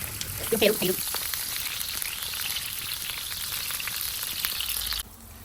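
Hotdog frying in a pan at a home Filipino breakfast, a steady soft sizzle with crackling pops running throughout, close but fairly quiet, ending abruptly.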